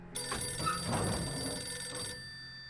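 An old-style telephone bell ringing in the survival video game 60 Seconds, a bright metallic ring lasting about two seconds before cutting off, heard alone and fairly close.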